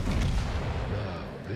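Battleship artillery fire in the World of Warships naval game, one dense roaring blast with a heavy low rumble that fills the whole moment and holds loud throughout.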